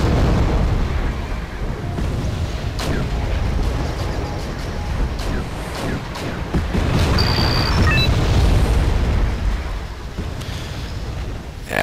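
Abrams tank cannon fire and explosions rumble through an online wargame battle, a dense, loud barrage of booms and bursts that runs continuously with no letup.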